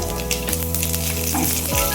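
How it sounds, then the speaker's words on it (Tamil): Steady, loud sizzling and crackling of mustard seeds, urad dal, cumin, a dried red chilli and curry leaves frying in hot oil in a pan, continuous throughout with no voices. "ஒரு கடாயில் எண்ணெய் ஊற்றி எண்ணெய் காஞ்சதும் கடுகு, உளுந்தம்பருப்பு, ஜீரகம்"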